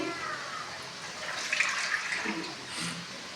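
Water runs and splashes into a bowl to soak nuts in a home kitchen, a steady pouring hiss with brief brighter splashes, close and moderately loud, with faint background noise and no speech.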